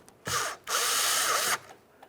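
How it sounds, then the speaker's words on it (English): A Phillips screwdriver tightening a mirror mounting screw into plastic on a 2012-2015 Honda Civic, two close whirring bursts, a short one then a longer one, alone in a quiet setting. "Use our Phillips head to snug it up."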